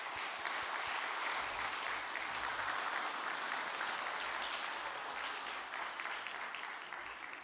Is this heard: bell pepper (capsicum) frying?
no